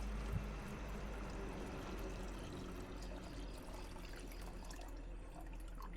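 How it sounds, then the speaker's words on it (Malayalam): Water poured from a jug into a non-electric water pump makes a soft, steady rush that runs unbroken for several seconds, fairly quiet, with no voices. "ഒരു ജഗ് വെള്ളം ഒഴിച്ചു"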